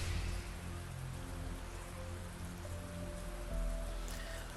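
Drizzling rain falls at night in a forest in the video game Arknights, a steady dense patter on surfaces with a faint tonal hum beneath it.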